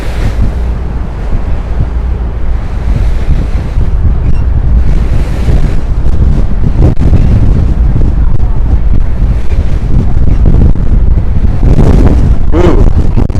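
Strong wind in the East 70s of Manhattan, roaring steadily and loudly across the microphone with gusty buffeting and no pauses.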